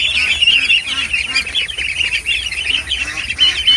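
Ducks quacking on a farm, a mixed flock of females and males, giving a dense, continuous chorus of nasal calls close by with repeated overlapping bursts.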